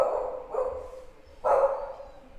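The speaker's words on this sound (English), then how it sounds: "My other dog." A pet dog named Bimba gives two short, muffled barks about a second apart, fairly close, with quiet room noise in between.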